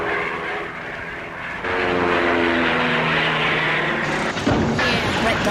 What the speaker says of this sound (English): As I wind up this propeller, the rubber band stores energy, and that energy can be released to make the airplane fly.